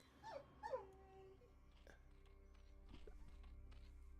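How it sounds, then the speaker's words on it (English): A puppy whimpers in a few short high whines near the start, faint and close, followed by quiet rustling and a low background hum indoors. "I'm sure you could hear the puppy sounds."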